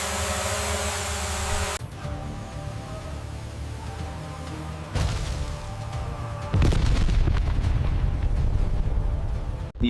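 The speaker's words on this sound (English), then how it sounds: "The explosion knocks you off your feet." A loud, deep explosion in a war-zone setting, with low rumbling booms building over several seconds and a heavy blast surging near the end, following a bright hissing section at the start.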